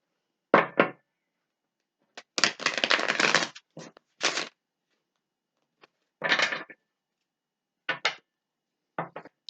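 Crisp bursts of tarot cards riffling and tapping together, several short shuffles with one longer flurry, close up and quiet between, no voices.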